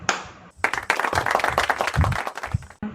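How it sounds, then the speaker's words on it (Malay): A classroom of students claps in a short, lively burst during a mock Islamic studies lesson, the hand claps close and uneven, trailing off at the end. "berikan satu tepukan"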